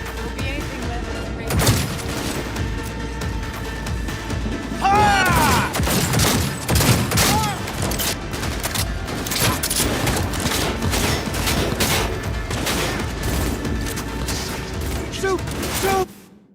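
Gunfire in the video game Cyberpunk 2077: dense, continuous volleys of shots with metallic clatter and booms, loud and sustained, with voices talking over parts of it.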